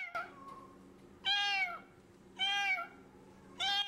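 Kittens meow in three loud, clear, close calls spaced about a second apart, with quieter mewing at the start and faint background noise between cries.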